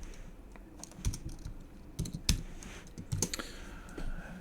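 Keys clatter on a computer keyboard as code is typed, with irregular clusters of sharp clicks and brief pauses, heard close and fairly quiet, with no talking.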